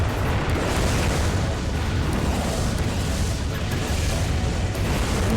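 Continuous roar of repeated grenade rocket explosions in a video game, loud and dense with overlapping booms and no clear gaps.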